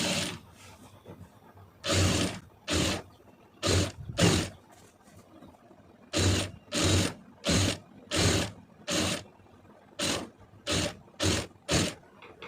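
A sewing machine stitches a folded blouse neckline in repeated short bursts, each a second or less, separated by brief pauses, close and clear with no talk.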